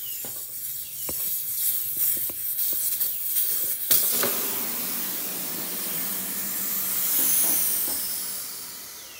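Gas hisses loudly and steadily from a fridge compressor line during a leak test, starting with a sharp burst and then sustaining a broad rushing spray that slowly fades.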